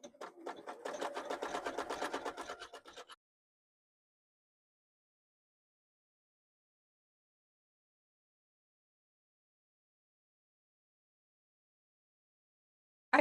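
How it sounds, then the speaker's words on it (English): A sewing machine stitches a pocket onto a garment with gold thread, running in a fast, even rattling burst for about three seconds, then silence, with a short restart at the very end. "I pinned my pocket into place and stitched around it using that gold thread."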